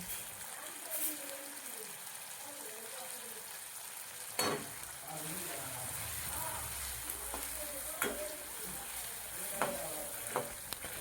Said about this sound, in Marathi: दोन ते 3 मिनिट हरभऱ्याची डाळ परतून घेतल्यानंतर ती तेलामध्ये